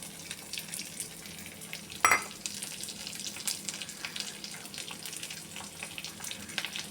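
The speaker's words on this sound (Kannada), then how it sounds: "ಸಾಸಿವೆ ಹಾಕೋಣ ಆಮೇಲೆ ಅದು ಸ್ವಲ್ಪ ಚಟಪಟ ಅಂದಮೇಲೆ ನಾವೀಗ ಕಟ್ ಮಾಡ್ಕೊಂಡಿದ್ವಲ್ಲ ಆ ಬೆಳ್ಳುಳ್ಳಿನ ಹಾಕಿ ಹುರಿಯೋಣ" Mustard seeds crackle in hot oil, followed by chopped garlic frying, a soft continuous sizzle with a sharp burst of spluttering near the start and light stirring scrapes, fairly quiet and without talk.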